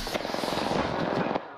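Rapid automatic gunfire in the video game Apex Legends, a dense close burst of shots that stops abruptly, with no talking over it.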